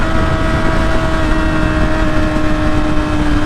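A 2016 Yamaha R6 sport motorcycle being ridden above 10,000 RPM: a loud, steady high engine whine with a strong rumbling, windy roar, held at constant pitch throughout.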